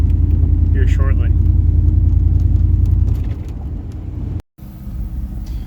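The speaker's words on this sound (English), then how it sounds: "So I got the truck idling." A 1994 truck engine idling with the transmission warm, a steady loud low rumble that drops a little after three seconds, with a brief higher tone early on.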